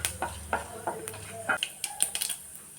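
Mustard seeds, cumin, black pepper, cinnamon, cloves and cardamom dropped into hot oil for egg masala rice, a sharp crackle and popping with light clinks of a utensil against the pan, close and fairly loud.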